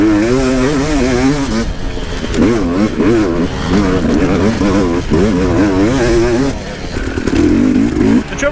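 An enduro dirt bike at a hare and hound race with a new pipe and piston screams loudly and continuously, its engine revving and surging as it pounds over braking bumps.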